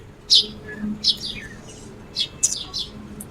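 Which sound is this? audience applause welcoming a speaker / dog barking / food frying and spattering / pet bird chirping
pet bird chirping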